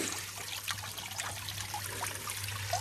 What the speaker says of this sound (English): the water is now filling up in there, coming up all through the bottom